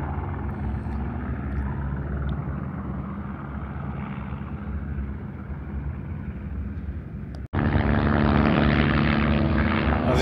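Helicopters come and go at the Dakar Rally 2024, about ten of them, giving a steady droning rotor and engine rumble that cuts abruptly and returns louder and closer.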